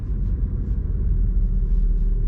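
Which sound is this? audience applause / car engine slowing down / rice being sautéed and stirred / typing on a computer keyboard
car engine slowing down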